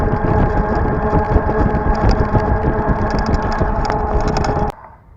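A Gosen Q5 e-bike riding on pedal assist level 5 makes a steady, fairly loud motor whine with wind and road rumble that holds for about four and a half seconds, then cuts off abruptly.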